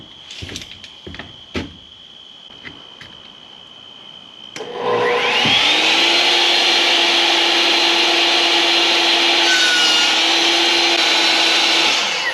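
A power saw cutting wood for a router table cabinet, a few sharp knocks and a steady tone first, then the motor spins up into a loud, sustained whining cut that holds to the end.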